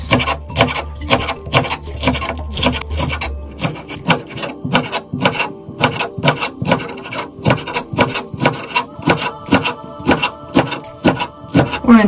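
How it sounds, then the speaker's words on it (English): Knife repeatedly slicing green onion on a cutting board at a slant, producing a steady series of crisp chopping taps close by, with a faint voice briefly in the background. "why don't we make a slant cut for the green onion"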